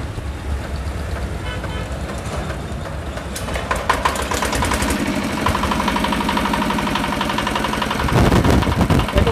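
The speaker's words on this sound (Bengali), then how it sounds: "এটা হচ্ছে R175। তাহলে এটাও স্টার্ট দিয়ে দেখাবেন নাকি?" A small R175 single-cylinder diesel engine cranks, catches and settles into a loud, rapid, steady chugging idle, its knocking beat running continuously close up and growing slightly louder toward the end.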